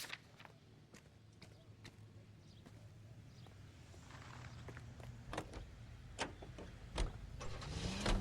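A car engine turning over and catching in LA Noire, a low steady rumble building over several seconds beneath scattered footsteps and clicks, growing louder toward the end.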